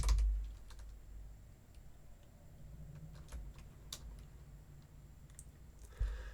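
Sparse, quiet clicks of a computer keyboard as someone types out an SQL query, irregular keystrokes tapping close by over a low room hum, with a couple of louder thumps at the start and end.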